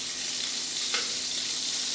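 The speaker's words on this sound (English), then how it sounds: "I'm going to go ahead and put my butter in the pan, my vegan butter, a tablespoon of vegan butter." A tablespoon of vegan butter sizzles in a hot pan on the stove, a steady close hiss of frying with one brief louder crackle midway.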